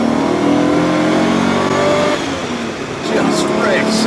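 A stock Jaguar 5.3-litre V12 with standard factory fuel injection revs up during a drive up a hill, a steady loud engine drone that eases briefly before climbing again, with talk over it.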